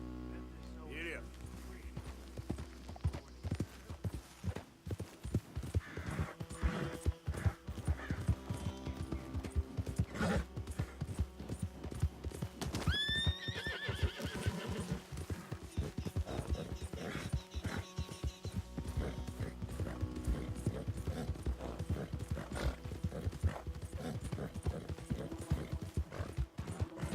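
In Red Dead Redemption 2, a horse gallops with fast rhythmic hoof clops throughout, joined by a neigh and some dog barking, with a voice speaking briefly over the game sound.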